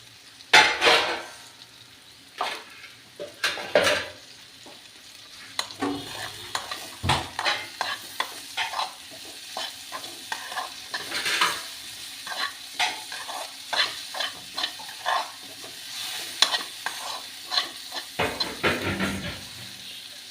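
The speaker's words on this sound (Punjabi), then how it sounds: "ਮਸਾਲਾ ਆਪਣਾ ਭੁੱਜ ਰਿਹਾ ਜੀ" Spices, curry leaves and crumbled soybean frying in a pan, sizzling steadily while being stirred, with frequent scraping clatters of the spoon against the pan throughout.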